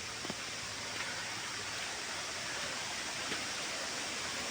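A hidden waterfall in Sri Lanka cascades in a steady, unbroken broadband roar that holds at an even level throughout, with no voices.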